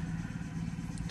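An MTZ 892 tractor hauling a Kuhn sprayer pulls away, its engine giving a steady, close, loud low rumble with a constant clattering drone throughout.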